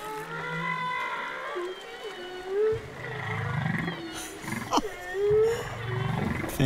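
Humpback whale song recorded underwater at Ningaloo during winter: long, moaning and sweeping tonal calls rising and falling in pitch, with deep grunts and a sharp upward whoop, fairly loud and continuous with no talking.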